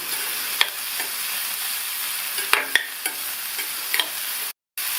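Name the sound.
sautéing vegetables with salt for upma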